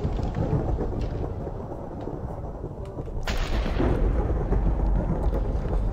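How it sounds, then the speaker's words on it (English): Thunder rolls in the video game Minecraft: a low rumble that swells into a loud, sharp crack about halfway through and then sustains as a heavy roar, with rain-like hiss underneath. "Thunder."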